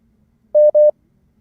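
Two short electronic beeps sound back to back on a phone line during a call-in, clear and loud against near silence.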